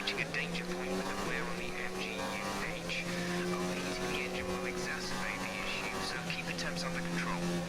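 An F1 race car in the F1 2019 video game whines with a continuous high engine tone that climbs and drops through gear shifts, while a voice talks quietly over it.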